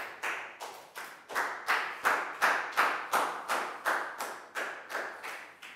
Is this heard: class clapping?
yes